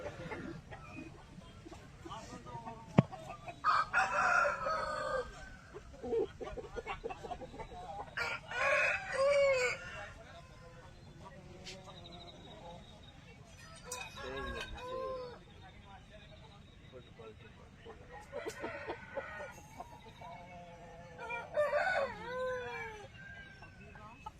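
Roosters crow repeatedly among clucking chickens at an outdoor poultry market under a tarpaulin, several loud crows in separate bursts with a dog howling faintly and voices nearby.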